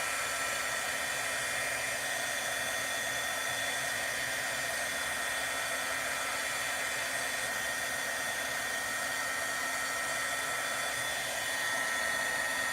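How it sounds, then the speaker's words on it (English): A heat gun blows steadily, melting embossing powder during a papercraft session, with a constant broadband whoosh at close range that runs unbroken throughout, with no voices. "there's no way to avoid the noise of the heat gun."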